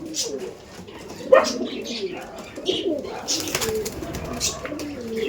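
Kaldom pigeons coo softly and repeatedly in a loft, low throaty calls mixed with light chirps and rustling, while a person talks over them.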